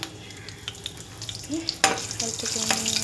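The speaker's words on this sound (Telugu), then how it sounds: "పోపు గింజలు వేగాక కట్ చేసి పెట్టుకున్న పచ్చిమిర్చి కూడా వేసుకుంటున్నాను." Hot oil crackles and sizzles in a pan as chopped green chillies are tossed in after the tempering seeds, with scattered pops and a burst of spattering midway, followed by stirring clinks.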